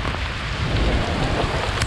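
A heavy tropical rain downpour on a Philippine island roars steadily and loudly, a dense, unbroken hiss of water pouring down, with no voices.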